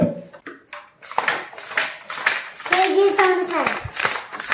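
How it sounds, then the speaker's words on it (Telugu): A book handled to make a sound in a children's guessing game, giving a few sharp slaps and rustles close by, with children's voices and chatter over and around them. "పుస్తకం సౌండ్ ఇది."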